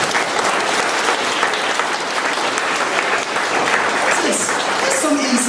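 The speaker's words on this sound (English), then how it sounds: "Someone give him a round of applause." Sustained audience applause at a talk about nursing home visits, a dense steady wash of many hands clapping with a few voices and whoops rising near the end.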